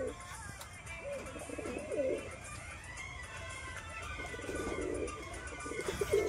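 Newly kept pigeons at a house coo softly in low, rolling phrases over a faint, steady background hiss.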